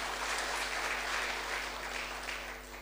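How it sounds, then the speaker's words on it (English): Quiet, sustained applause at a provincial assembly as the audience welcomes a chief guest, a steady wash of clapping over a low electrical hum, fading slightly at the end. "We can clap a little more to welcome him."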